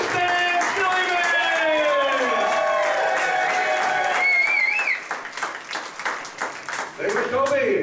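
A comedy club audience claps and cheers to welcome a stand-up comedian while an emcee talks loudly over them, and the clapping becomes sharper and clearer toward the end.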